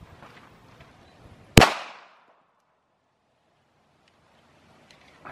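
A single loud gunshot rings out in an open field, fired at a stack of pop-it toys, with a sharp crack and a short fading echo between quiet stretches of background noise.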